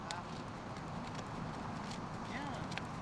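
Horse hooves clip-clopping during a riding lesson in Lyon, faint steady hoofbeats in the background under a voice speaking throughout.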